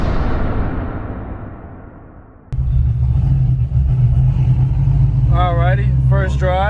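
An untuned Corvette engine with a big cam, at first start, rumbles with a deep, loud, close, steady note, while excited voices talk over it.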